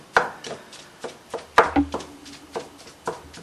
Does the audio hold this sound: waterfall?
no